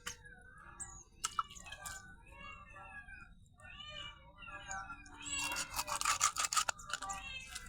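Kittens mewing in a domestic setting, a series of thin, high meows coming and going in short bursts, growing busier and louder toward the end over faint background noise.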